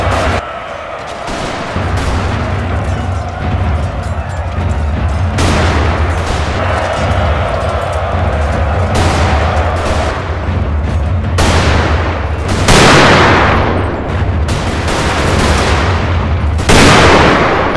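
Gunfire and artillery roar through a Total War battle between British troops and Zulu warriors at Kambula, a dense, loud wall of rattling volleys and deep booms, with heavier blasts swelling near the end.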